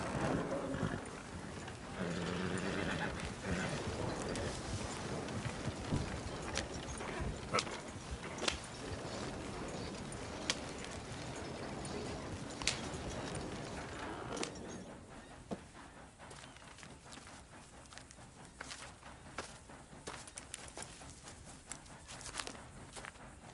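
A horse's hooves in Red Dead Redemption 2 on PS4 beat out a steady, rhythmic clip-clop under game ambience, loud at first and then quieter and more distant over the last third.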